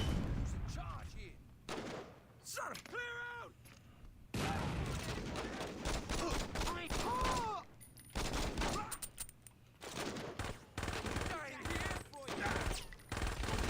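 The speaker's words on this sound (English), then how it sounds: "Imagine getting riddled with bullets and still magically just surviving." Gunfire from the Saints Row video game crackles in dense bursts, loud and close, with gaps of near silence between volleys and voices talking over parts of it.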